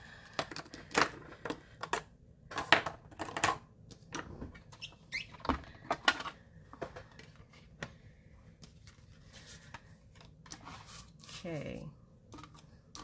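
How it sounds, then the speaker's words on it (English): A die cutting and embossing machine cranks through paper for a mini beach note card, giving off a steady run of close, dry clicks, ticks and rubbing scrapes in uneven bursts, with a brief whirring squeak near the end. "So cut and emboss machine back over."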